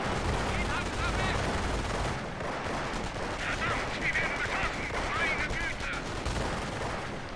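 Machine gun fire in the strategy game Company of Heroes, dense rattling bursts and booming battle noise filling the whole span, with someone talking under the gunfire for part of it.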